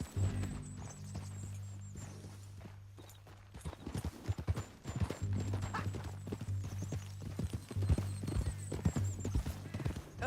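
Horse hooves clip-clop steadily at a walk in Red Dead Redemption 2, an irregular clatter over a low droning hum, with a brief pause before resuming.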